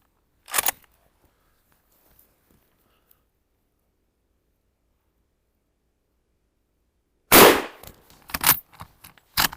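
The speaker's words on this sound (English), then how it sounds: "Let's fire a few more shots" Remington-made Mosin-Nagant rifle fired outdoors: one sharp loud shot near the start, a long quiet pause, then a heavy blast followed by a quick string of shorter cracks and clatter near the end.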